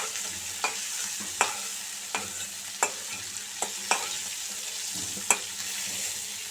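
Prawns fry in hot oil with a steady soft sizzle, while a spatula knocks against the pan in sharp, irregular taps about every half second.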